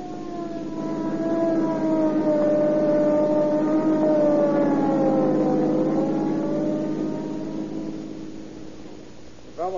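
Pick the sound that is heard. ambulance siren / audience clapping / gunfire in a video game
ambulance siren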